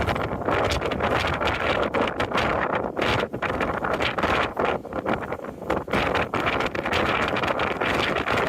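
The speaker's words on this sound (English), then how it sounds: "it's kind of windy here." Constant heavy wind buffeting the microphone, a loud roaring rumble with gusty fluctuations throughout and no voices.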